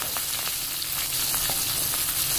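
Sliced red chilies, bird's eye chilies, garlic and shallots for a tamarind sambal fry in hot oil, giving a steady, dense sizzle that runs on close and unbroken with no talking.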